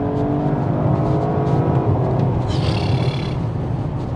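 A sports car with a sport exhaust, an Audi RS5 coupe or BMW M4, accelerates hard with a loud, steady engine drone that shifts pitch at a gear change partway through, heard from inside the cabin with no talk.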